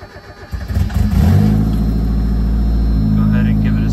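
A Mazda Miata 1.8 engine starter cranks briefly, then the engine catches and settles into a loud, steady idle close by, with a slight drop in pitch near the end.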